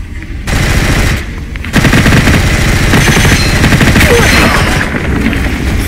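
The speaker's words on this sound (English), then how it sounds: "Oh my god, this gun is amazing!" Rapid automatic gunfire from an enhanced weapon in the shooter game Gunfire Reborn, a loud, dense, unbroken stream of shots that carries on for several seconds with no talking.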